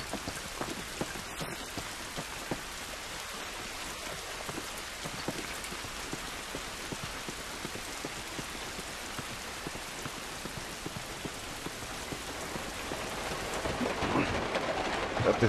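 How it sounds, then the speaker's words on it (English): Steady rainfall pattering on surfaces fills the scene in The Last of Us, a continuous dense hiss with scattered drops, growing slightly louder toward the end, with no voices. "This rain ain't gonna do us any good."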